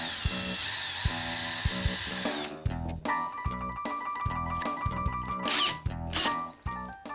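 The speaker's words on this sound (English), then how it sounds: "Next, drill pilot holes." A power drill bores pilot holes into a wall over a stud, whining in short repeated bursts that rise and fall as the bit engages, close and loud with brief pauses between runs.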